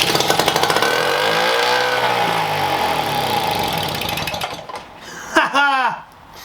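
A British Seagull outboard motor runs loud and close with a steady throbbing idle for several seconds, then cuts out and sputters briefly; no talking.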